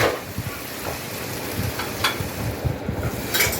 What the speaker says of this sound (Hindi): इसमें आपने कट अनियंस करने हैं राउंड शेप में और गरम तेल में या घी में डाल दें इसको